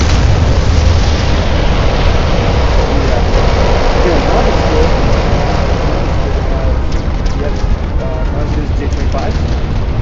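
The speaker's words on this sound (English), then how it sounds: "Then we fire our last missile." Video game strike fighter launching a missile followed by an explosion: a loud, dense, continuous roar of blast and rumble filling the whole stretch, with faint talk underneath.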